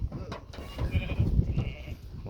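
Sheep bleat close by while being watered, several short overlapping calls over low murmuring noise.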